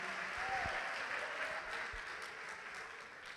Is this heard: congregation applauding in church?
yes